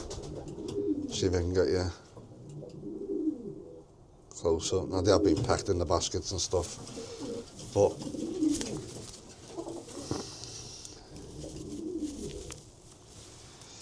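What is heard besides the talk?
racing pigeons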